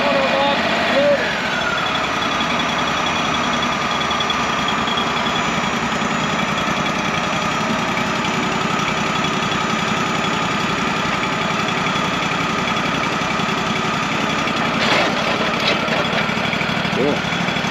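A log loader on a trailer idles steadily throughout, a continuous mid-pitched diesel drone with faint mechanical knocking and a brief clatter near the end, with no talk over it.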